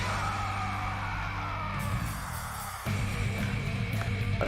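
Repeating yells and screams from Danganronpa Goodbye Despair, a looping chorus of shouting over a droning tone that dips briefly, then surges back with sharp bangs and louder voices.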